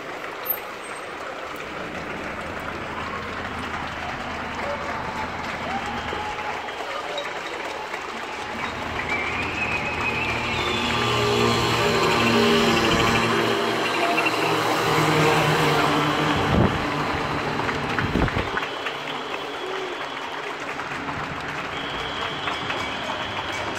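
Residents clapping from windows across a Paris street in support of public hospital medical staff, a sustained distant wash of applause that swells in the middle, with occasional sharp claps and faint shouts echoing between buildings.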